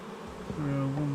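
Honeybees from a well-populated hive drone and hum during an early-season inspection, a low steady buzz that swells and thickens into a close, sustained tone through the second half.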